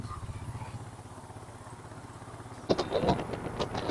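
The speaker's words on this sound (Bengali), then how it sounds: "এই প্রথম বাইকে এত দূর রাইড করা" A motorcycle on a long highway ride, its engine droning low and steady with wind rush, then louder clattering and whooshing passes near the end, close and without talk.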